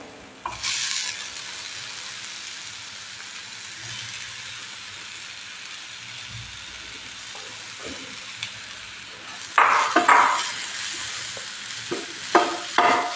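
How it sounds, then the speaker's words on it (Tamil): Flat beans are stirred into a crumbly frying lentil mixture, producing a low, steady sizzle with scattered scraping clicks and a few louder bursts of stirring toward the end. "அவரைக்காய் போட்டு நல்லா ஒரு கிளறி கிளறிட்டிங்கன்னா அவரைக்காய் பருப்பு ஊசிலி ரெடிங்க"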